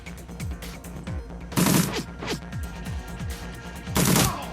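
Gunshots in the video game Shadowrun Returns: a string of sharp shots at an uneven rhythm, with two louder, brighter bursts standing out, set over a low background of music and game sounds.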